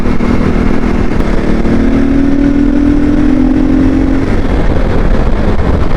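A CSC RX4 motorcycle engine roars loud and close under heavy throttle, a steady rough drone with a rising whining tone partway through, buffeted by wind noise.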